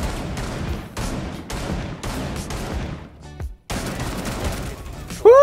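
Rapid bursts of gunfire in the shooter video game Rainbow Six Siege, loud and close, repeating in quick volleys with short gaps, briefly cut by a silent dropout before the firing resumes.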